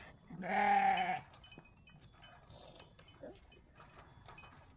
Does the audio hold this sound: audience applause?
no